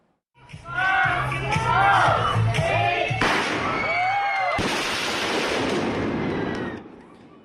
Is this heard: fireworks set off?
yes